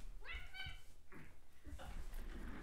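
Several cats make short, high meowing and whining calls close by, followed by a few more brief cries, over a faint background hum.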